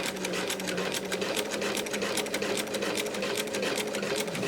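A sewing machine stitches a foundation paper pieced tulip potholder, running in a steady rapid chatter close by for the whole stretch, with no talk over it.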